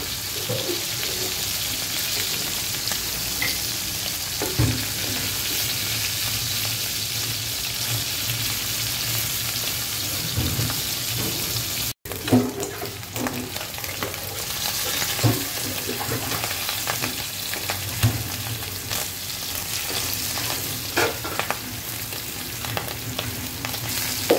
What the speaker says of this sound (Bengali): আমি মাছগুলো কিন্তু ভেজে দিচ্ছি